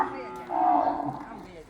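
A cow lows once in a long, drawn-out moo that swells midway and fades, heard fairly close with no talk over it.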